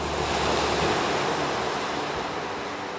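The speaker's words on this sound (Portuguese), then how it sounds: "as águas represadas despencaram com grande estrondo" A continuous thunderous roar of sea water crashing down, dense and unbroken like heavy surf, loud and close with no voices.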